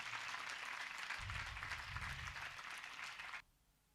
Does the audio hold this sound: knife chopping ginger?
no